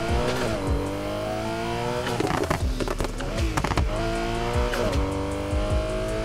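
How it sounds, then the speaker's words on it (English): A Subaru BRZ with a tuned exhaust on drag tires revs in the Need for Speed Heat racing game, loud rising and falling engine tones with repeated shift-like drops and sharp transients, up close and with no talk. "That's actually a nice exhaust tone right there."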